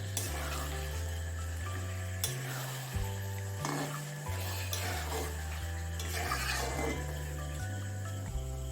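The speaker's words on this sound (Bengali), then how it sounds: "লবণ হলুদ তেল গোলানো লইটা মাছগুলো এতে দিয়ে দেব মশলার সঙ্গে ভালো করে মিশিয়ে নেব" Bombay duck (loitta) fish coated in salt, turmeric and oil is mixed into a spice paste in a pan, with a soft sizzle and irregular stirring scrapes under a steady background hum.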